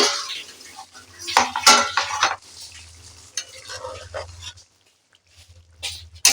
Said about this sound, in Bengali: ঢাকাটা খুলে দেখব কতটা জল আছে বা সেদ্ধ হয়েছে